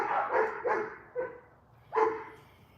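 Dogs bark a short distance away outdoors in the Philippines, a few sharp separate barks in uneven bursts with pauses between, no talking over them.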